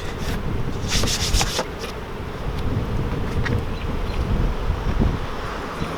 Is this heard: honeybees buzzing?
yes